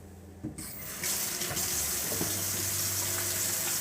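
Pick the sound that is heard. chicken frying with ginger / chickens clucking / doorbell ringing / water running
water running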